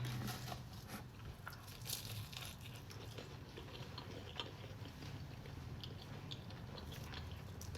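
Chewing and biting into a hot sausage roll of flaky puff pastry, close-up crunchy crackle of pastry layers and soft mastication running steadily with no talk.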